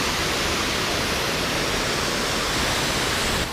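Jumog waterfall in Tawangmangu, Central Java, roars as a dense, steady broadband rush of falling water, loud and continuous without pause or talk.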